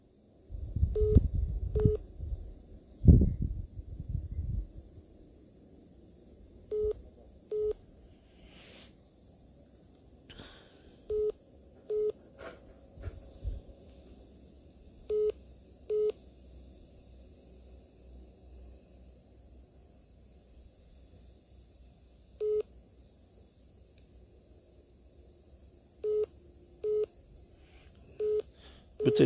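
A phone call comes in as short repeated tone beeps sound in spaced pairs against a faint hiss, after some brief loud handling bumps at the start.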